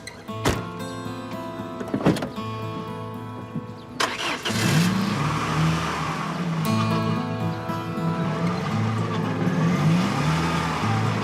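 A wedding car's engine starts after a few sharp clicks and whirs, then settles into a steady, close mid-pitched idle rumble that runs on to the end.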